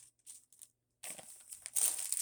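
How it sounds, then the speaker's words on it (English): A plastic bag crinkles as yarn is stored in it. Soft rustles come first, then louder, denser crackling bursts in the second half, close up and alone. "So, and then there's another plastic bag I can store yarn in."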